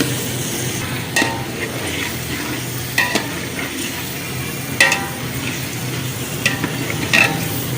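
Chicken for a degh-style korma frying in a pot over a medium flame, a steady dense sizzle running throughout with a few sharp spoon clinks and scrapes against the metal.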